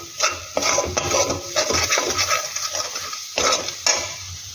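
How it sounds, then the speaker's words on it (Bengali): A spatula scrapes and stirs spices through a kadai in short repeated strokes, with a soft sizzle underneath, close and fairly loud. "এবার আবার বেশ ভালো করে এটা নেড়ে চেড়ে দেব।"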